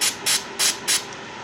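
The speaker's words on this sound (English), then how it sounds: "Spray some more of the Power Blaster Carbon Destroyer on there." Four short bursts of Power Blaster Carbon Destroyer aerosol solvent hiss out close by onto a firearm barrel, evenly spaced, each about a quarter second long with brief pauses between.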